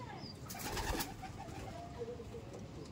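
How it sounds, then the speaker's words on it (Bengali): Black dana pigeons coo softly at close range over a steady murmuring loft background, with a brief burst of wingbeat-like noise near the middle. "এটা কালো দানা পায়রা"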